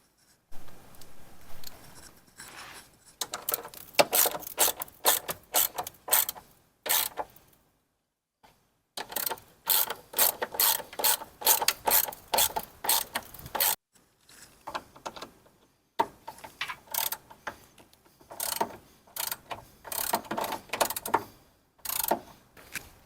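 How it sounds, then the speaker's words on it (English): A ratchet tightens bolts on a Go Rhino E1 electric running board motor fitted to a Jeep JK, producing close, rapid clicking bursts in repeated spurts separated by short silent pauses. "Now we're going to tighten everything down on this front motor and we will be good."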